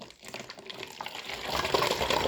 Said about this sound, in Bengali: এরকম বালতিতে ঢেলে জল ভরো